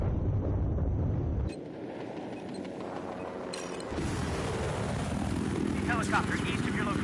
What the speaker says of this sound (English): Helicopter east of your location